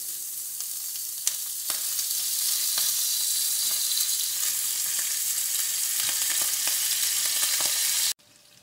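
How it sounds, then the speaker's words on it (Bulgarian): Karnache sausages frying in oil for a lentil soup, a loud continuous close sizzle with occasional crackles and pops that cuts off abruptly near the end. "Вече карначетата се позапържиха"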